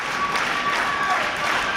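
A wrestling crowd at an indie show cheers and applauds in a dense, continuous wash of clapping and voices that holds steady and loud throughout.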